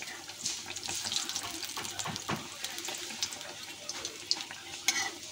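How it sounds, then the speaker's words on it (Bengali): Spiced taro pieces coated in gram flour batter fry in a wok, giving a steady close sizzle with scattered spoon clinks and splashy bursts throughout. "আমরা মশলা মাখানো কচুগুলোকে বেসনের ব্যাটারে দিয়ে ভেজে নেব।"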